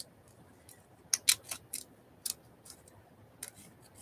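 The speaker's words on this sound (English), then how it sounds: "I know, strictly speaking, I don't need to cut these little bits out, but I just feel like I need to." Scissors snip out small fabric scraps in a string of quiet, sharp clicks and cuts, irregularly spaced and close by, without talk.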